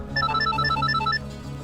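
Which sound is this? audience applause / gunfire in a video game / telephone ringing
telephone ringing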